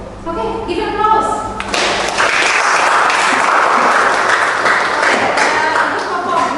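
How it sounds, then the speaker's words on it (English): A class applauds a student performance in a maritime English lesson: a brief tonal start, probably voices, gives way to steady dense clapping that stays loud and close for several seconds. "Okay, give an applause."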